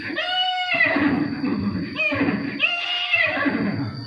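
A war horse neighs loudly and close, several whinnying calls in a row with short gaps between them, shrill and quavering.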